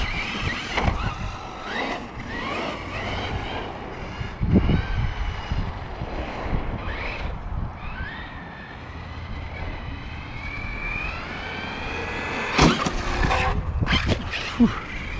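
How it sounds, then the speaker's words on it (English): A Team Corally Kagama 6S RC car with a Rocket 4282 1780KV motor gives short half-throttle bursts, rising electric whines and squeals that come and go over a noisy outdoor background. "maybe half throttle blips there"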